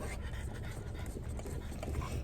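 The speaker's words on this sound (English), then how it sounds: "Artie's still eating his puppuccino" Artie the dog pants quickly and steadily while eating a puppuccino, heard close over a constant noisy background with no talk.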